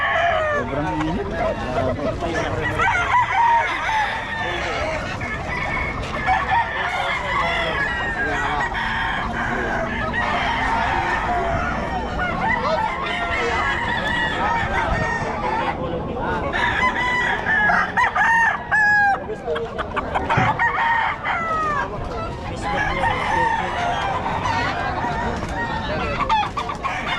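Chickens and roosters at a hot poultry market, dense clucking and repeated crowing from many birds nearby, with people talking throughout.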